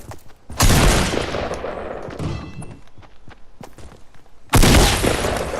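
Bursts of gunfire in the Fortnite video game, including a legendary hand cannon: two loud dense volleys of rapid shots with thuds between, close and sharp, without talk.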